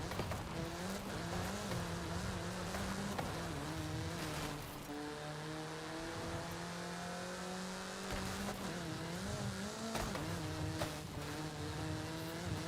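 A Forza Horizon 5 car engine drones steadily and loud, its pitch climbing through repeated gear shifts as it accelerates, with a brief dip and some tire scrub partway through and no talk.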